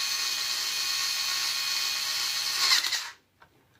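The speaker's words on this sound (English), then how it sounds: "And with this electric driver, I've got the nice option of having different torque settings on it." A cordless electric screwdriver set to its lowest torque whirs steadily as it drives screws into an RC car's graphite centre differential top plate, then cuts off abruptly, leaving a few faint clicks before quiet.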